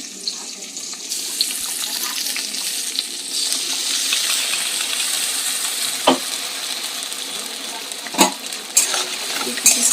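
Vegetables with potato and papaya fry in a pan with a continuous close sizzle, broken by a few sharp clinks and scrapes of stirring near the end.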